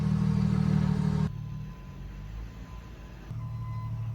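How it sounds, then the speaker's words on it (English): A fire truck pulls in nearby at a waterfall spot, its heavy diesel engine droning loudly then dropping away abruptly and returning, with a faint steady tone like a reversing beeper riding above; no talking. "a fire truck coming in right now."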